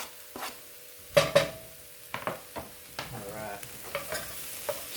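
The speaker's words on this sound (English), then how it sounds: "Stir it all around. Coat it all in the oil and the garlic." Ginger and garlic fry in oil for vegan ramen while a utensil stirs them, producing a run of distinct knocks and scrapes over a soft sizzle, with one brief spoken word early on.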